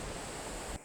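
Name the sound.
flowing water of a stream on a hiking trail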